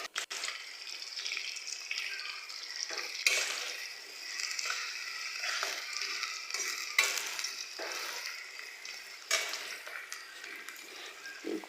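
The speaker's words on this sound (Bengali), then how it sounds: "মরিচ, পেঁয়াজ দিয়ে দেব, দিয়ে ভালোভাবে নেড়ে চেড়ে নেব।" Chillies and onions frying in hot oil while being stirred, a continuous close sizzle broken by repeated scraping strokes of a spoon against the pan, with no voices.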